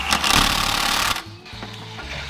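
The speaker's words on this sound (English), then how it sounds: "Get the bigger dog. Get the Milwaukee, see if it'll do it." A Milwaukee power tool hammers at a tight exhaust bolt on a Chevy Bel Air, a loud buzzing impact rattle for about a second, then quieter intermittent bursts as it fails to break the bolt loose.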